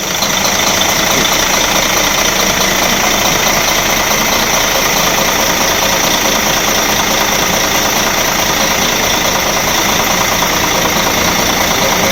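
A Mercedes Travego bus diesel engine, just repaired after its oil cooler was removed and refitted, runs at a steady idle, loud and close, with a constant rumble and knocking vibration throughout.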